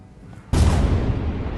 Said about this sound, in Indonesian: Hingga akhirnya 2 tembakan meriam diluncurkan tepat sasaran.